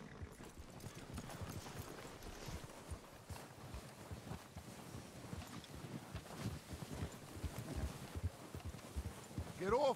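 Horse hooves clip-clop in the video game Red Dead Redemption 2, a repeated rhythmic walking beat over ambient outdoor sound, with speech heard alongside.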